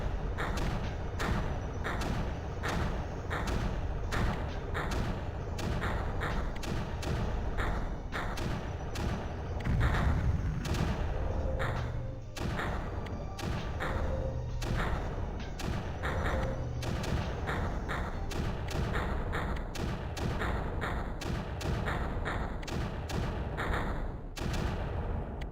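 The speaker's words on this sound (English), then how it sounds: "I'm only really using the mortars to keep this low" Mortars firing in the strategy video game Creeper World, a dense, rapid stream of thumping shots repeating steadily throughout at close range, loud and continuous with no talking.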